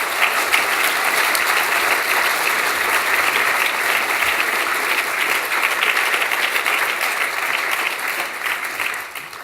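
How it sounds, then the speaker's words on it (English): Sustained audience applause at a New Fellows admission ceremony of the Academy of Medical Sciences, dense even clapping from a large crowd that stays strong and tapers slightly at the end. "Could you give them a round of applause?"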